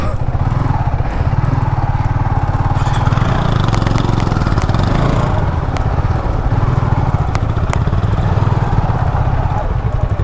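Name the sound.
motorcycle engine during motovlog ride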